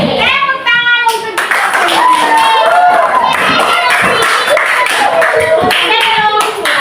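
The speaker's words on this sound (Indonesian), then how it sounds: "Tepuk tangan untuk" Children clap their hands together in a classroom, loud, quick bursts close by, mixed with kids' voices chanting and talking over the rhythm.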